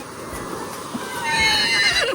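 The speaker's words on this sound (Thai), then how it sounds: "ทำไมม้าร้องครับ ร้องเรียกกันครับ" Horse whinnying near a resort in Hua Hin–Cha-am, a rising shrill neigh in the second half after faint clopping and background sounds.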